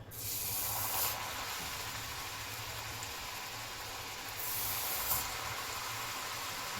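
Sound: chakli dough frying in hot oil

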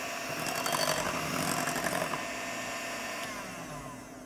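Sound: electric mixer whipping egg whites at low speed

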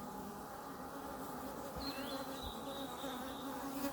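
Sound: bees buzzing around a wild honey nest in a tree

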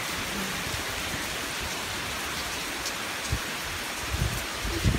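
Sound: rain falling during park hike

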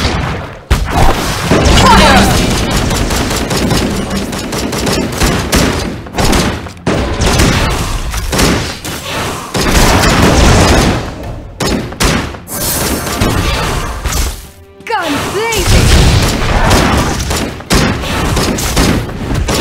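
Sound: gunfire in the video game Legend of Ace

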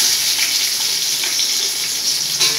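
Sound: sliced onions frying in a pan for biryani

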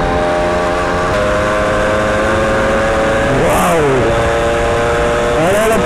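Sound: moped engine while riding

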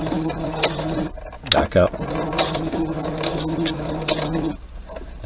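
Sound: sewing machine stitching a thumb hole cuff

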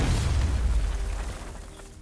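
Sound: explosive gel detonation in Batman Arkham Knight video game

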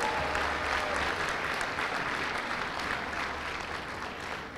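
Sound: audience clapping for a graduate

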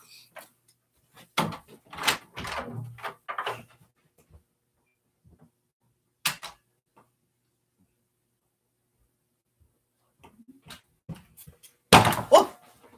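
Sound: hitting a door

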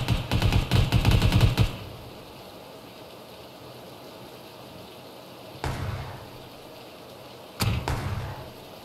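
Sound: gunfire in PUBG Battlegrounds video game

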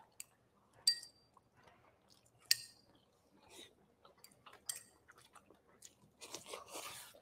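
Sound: chewing crunchy fried prawns

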